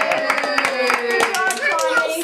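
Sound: child clapping hands after birthday song

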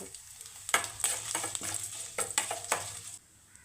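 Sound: mustard seeds, urad dal and dried chilli tempering in oil

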